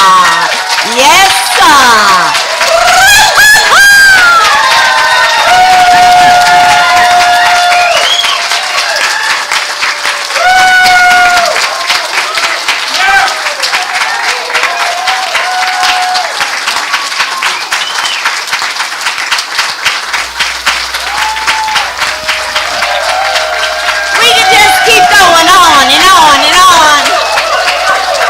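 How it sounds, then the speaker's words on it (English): Congregation applauding at a church service, sustained clapping with cheers and whoops filling the room, and voices calling out over the ovation throughout. "their round of applause"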